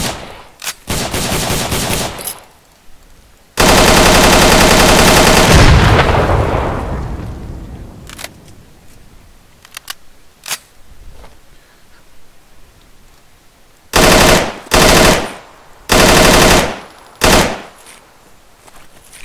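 Video game gunfire in a Vietnam War jungle mission, loud sustained automatic bursts alternating with short quieter gaps and single shots, ending in several more heavy bursts.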